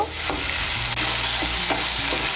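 Turmeric and ground spices fry steadily in a pan for a Bengali fish curry, a continuous bright sizzle broken by a few soft scrapes of stirring, close and with no talk.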